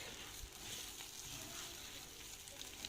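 Rice sautéing in a pan, a faint, steady sizzle and crackle with no voices.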